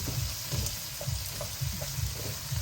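Cut potatoes fry over a medium flame for a Punjabi cauliflower sabzi, giving a steady close sizzle with soft, repeated low thumps from stirring or shifting in the pan. No one speaks.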